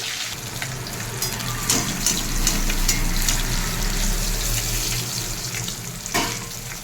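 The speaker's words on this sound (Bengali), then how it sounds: "পমফ্রেট মাছটা ভাজা বসিয়ে দিয়েছি।" A pomfret fish rubbed with salt, turmeric, chilli and oil fries in hot oil, producing a loud, steady, close-up sizzle with a few sharper spatters and no talking.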